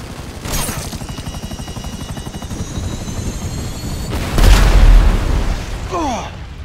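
A helicopter in the video game GTA 5 thrums steadily with rapid rotor chop, joined midway by a loud booming burst, likely gunfire or an explosion, before the rotor noise carries on.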